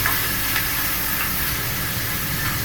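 Spice masala with salt and turmeric frying for a chicken keema kachori filling gives a dense, loud, unbroken sizzle and hiss, close up and steady throughout, with no voices.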